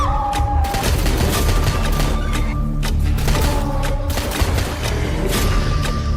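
Handgun fire in a horror video game, shooting at tentacled monster creatures; dense, loud bursts of shots and booms run continuously with a busy game soundtrack and impacts throughout.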